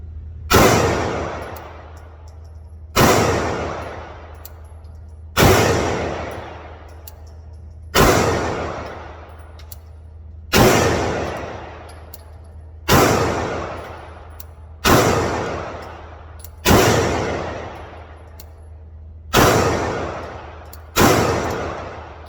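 A PSA Dagger SW2 pistol fires ten single shots at a shooting range, each one loud and sharp. The shots come at an even, unhurried pace of about two and a half seconds apart, and each crack rings off briefly before the next.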